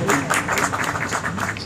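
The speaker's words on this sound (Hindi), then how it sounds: "भरपूर तालियों में।" Steady applause from a crowd at a mushaira poetry gathering in Faisalabad, dense continuous clapping at moderate volume throughout.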